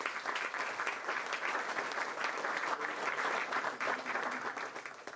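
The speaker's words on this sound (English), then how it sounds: "Give yourselves a big round of applause." An audience at a New York City mayoral press briefing on housing and affordability gives steady, full applause that holds evenly and tapers slightly at the end.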